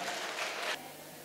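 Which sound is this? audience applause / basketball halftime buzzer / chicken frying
audience applause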